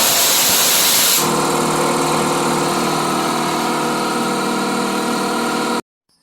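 A Central Pneumatic 29-gallon 2 hp air compressor kicks on after a brief noisy start and settles into a loud, steady mechanical drone for several seconds before cutting off abruptly.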